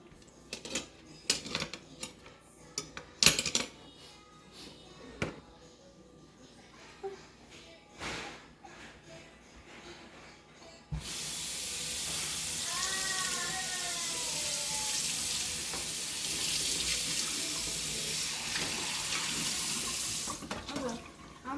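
Tap water runs steadily into a sink while dishes are rinsed, a broad continuous rush starting midway and holding for the rest, after scattered clinks and faint voices at the start.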